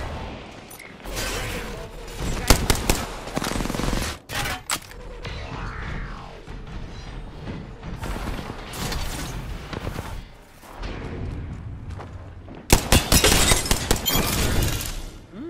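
Rampart's light machine gun rattles in bursts during an Apex Legends-style Gun Run match on the Broken Moon map, with dense rapid firing, a clear lull near the middle, and a loud final volley near the end.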